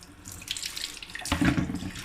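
Running tap water splashes while something is rinsed beneath it, a close, uneven gush that swells into a louder burst of splashing partway through.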